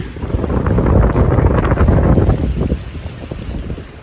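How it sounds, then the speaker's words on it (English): Strong, cold wind roars across a mountainside during deer season, a loud, steady rumbling gust buffeting the microphone for several seconds before easing slightly, with no voices. "The wind is blowing like crazy."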